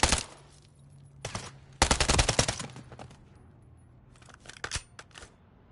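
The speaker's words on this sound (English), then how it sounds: "Why is he firing in random directions?" Rapid gunfire from the Call of Duty video game, short crackling bursts and a dense automatic volley, close and sharp with brief quiet pauses between.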